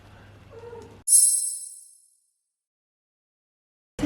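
A single high, drawn-out meow from a cat, fairly close and clear, preceded by faint low murmuring and followed by silence.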